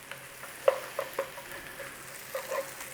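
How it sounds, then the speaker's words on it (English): Garlic cooking in butter in a pan, a faint, quiet sizzle under a few light clinks and taps of a utensil on the pan. "Cook off that garlic a little bit. In there, some more butter."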